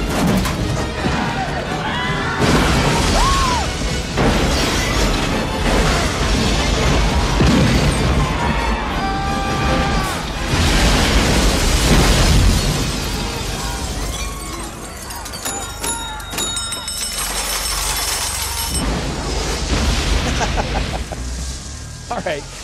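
Movie scene of an airplane crashing into a casino and exploding, with loud dense crashing, shattering and booming that fills the whole stretch, layered with dramatic music and brief voices.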